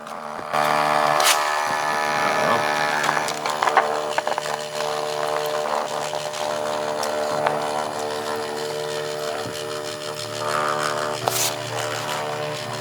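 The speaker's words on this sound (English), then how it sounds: "we're printing on standard mode here" A Wormhole stencil printer runs in standard mode with a continuous mechanical whir and buzzing motor drone, broken by occasional clicks and rattles.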